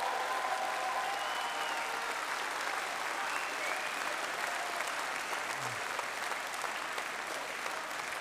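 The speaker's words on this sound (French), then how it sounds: "je veux ici que nous applaudissions Marion Maréchal" Steady, sustained applause from a large audience at a Reconquête party political rally with Eric Zemmour, dense clapping filling the whole stretch at an even level with no pauses.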